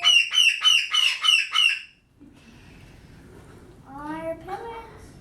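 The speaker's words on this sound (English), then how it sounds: "Green-winged macaw." Green-winged macaw at an avian rescue, six rapid harsh squawks in a rhythmic burst, loud and close, followed by a quieter stretch and a voice.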